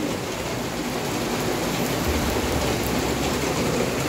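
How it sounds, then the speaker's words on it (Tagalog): Heavy rain falls in a steady, loud, unbroken wash of hiss across the whole stretch, with a low rumble underneath and no voices. "Lakas ng ulan."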